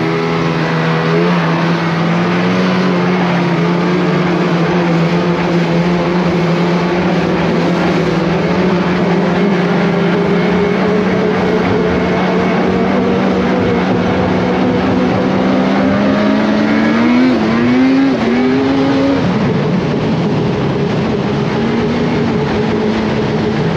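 Off-road vehicle fitted with a HyGear Assault IGX suspension linkage kit, its engine droning steadily and loudly throughout the ride, with the pitch rising and wavering briefly near the end.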